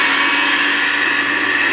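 A kitchen blender whirs steadily as it purées chilled watermelon rind, a loud, even, high-pitched motor roar with no talk.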